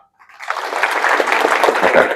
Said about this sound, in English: can we all do a round of applause for her?